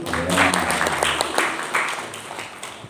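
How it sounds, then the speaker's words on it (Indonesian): Applause from an audience for Pak Randy at a Bank Indonesia teacher-ambassador briefing in West Sumatra, a steady broadband clatter of hands running the whole time, mixed with a speaking voice. "Tepuk tangan buat Pak Randy"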